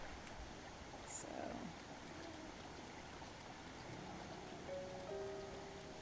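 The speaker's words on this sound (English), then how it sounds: "it's raining and it's never going to stop raining" Rain pours steadily in The Legend of Zelda: Breath of the Wild near Zora's Domain, a constant soft hiss of drops on surfaces that fills the background from start to finish, with a few faint game tones.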